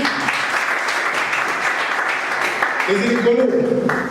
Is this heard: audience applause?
yes